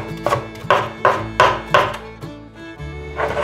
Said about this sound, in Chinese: 换一个方向，切小丁。